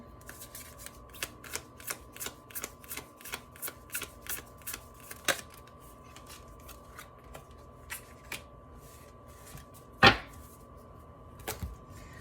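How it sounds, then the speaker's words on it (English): Tarot cards being shuffled and drawn, a quick run of light papery flicks and snaps followed by sparser card handling and a sharper slap near the end, close and quiet. "we're going to go ahead and draw an advice card for that"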